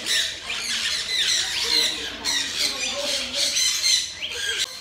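Parrots in a large aviary squawk and chirp continuously at close range, with overlapping harsh calls crowding one another through the whole stretch.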